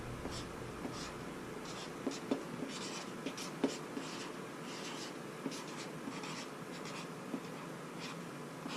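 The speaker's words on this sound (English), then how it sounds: "So I found a permanent black marker, and I'm just going to quickly write the name." A black permanent marker squeaks and scratches across a surface, its quick strokes coming in short, faint bursts close to the microphone in a quiet room.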